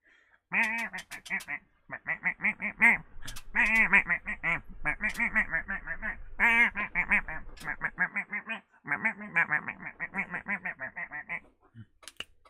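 A synthesized disco duck quacking effect plays in a Halo Combat Evolved live stream, a long run of rapid, loud quack bursts in quick rhythmic clusters with brief pauses, heard close and alone.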